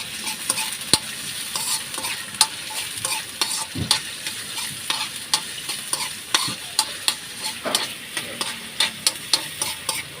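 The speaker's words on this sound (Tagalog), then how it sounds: "Yun yung gisahin muna natin." Chili, ginger and onion sauté in hot oil in a pan, a steady bright sizzle broken by frequent close scrapes and taps of a spatula, with no voices.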